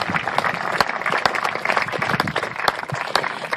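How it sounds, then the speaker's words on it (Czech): Steady applause from a crowd honoring results at a 2013 regional fire brigade competition in Rakovník, a dense, continuous patter of many hands clapping at close range with no speech over it. "Chce to velký potlesk za vaše nádherné výsledky."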